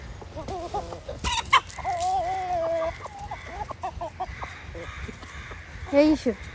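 Farmyard chickens, including a rooster and hen, cluck and call repeatedly at close range, with a longer crow-like call in the middle and faint voices in the background.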